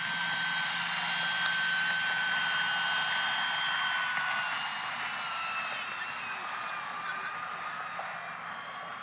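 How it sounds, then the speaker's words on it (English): A UMX Turbo Timber RC model airplane doing a touch and go in the desert, its high electric whine steady and fairly loud, then gradually easing as it moves away. "That my friend is a touch and go."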